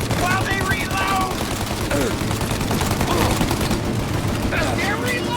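Dense, continuous gunfire and overlapping shots in a Mafia Definitive Edition shootout, loud and unbroken, with shouted voices mixed in.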